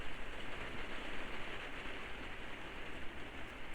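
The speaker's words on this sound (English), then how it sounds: "Excuse the rain." Rain falling outside while someone works indoors on a Christmas junk journal: a soft, steady patter and hiss of rain, continuous and fairly faint, with no voices.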